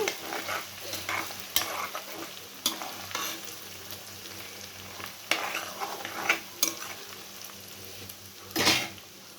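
Boiled chicken pieces fry in hot oil for a pickle, giving a steady sizzle with a few louder stirring scrapes and pops close by, no voices.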